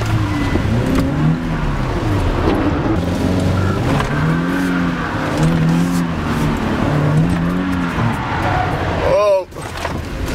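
A Nissan Stagea engine revs and whines steadily, then tires squeal briefly near the end as it skids and spins out.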